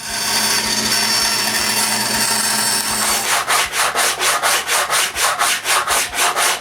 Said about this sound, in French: Les parties courbées, les autres, je les coupe avec la scie à ruban.